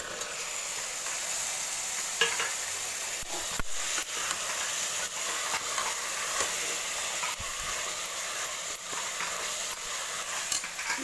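Butter beans being stirred in a pan for a Tamil-style butter bean biryani give a steady, close sizzle with scattered spoon scrapes and clicks, continuous throughout with no talking.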